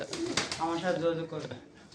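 Pigeons at a pigeon farm coo softly nearby, a short run of low, warbling coos with some voices mixed in.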